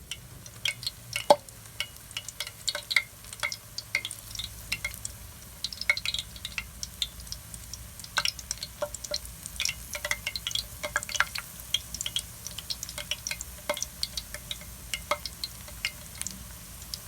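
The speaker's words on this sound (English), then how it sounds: "I'm going to just lay it in here, and it's sizzling up" Daylily petals dipped in batter frying in a pan, a continuous soft crackling sizzle with scattered sharp pops and spits, close and steady throughout.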